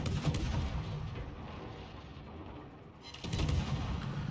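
Warship guns firing in a naval battle game, booming blasts at the start that fade into a rumbling decay, then a second loud volley near the end, with no talking.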